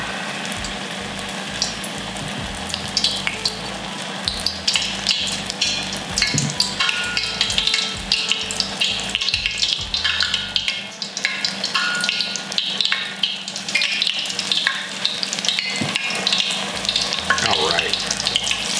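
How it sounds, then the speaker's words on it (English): Apple fritters fry in hot oil with a dense, steady bubbling sizzle, close and loud, joined by occasional clatter of a utensil near the pan, with no voices. "And then we're just gonna drop that right into the oil."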